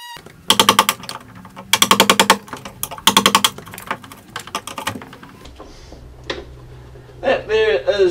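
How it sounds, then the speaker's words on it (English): An oscillating multi-tool notches wood for an earth wire in a linen cupboard build, giving several loud, short buzzing bursts. Quieter handling noises and a voice follow. "I'm just going to use multi-tool."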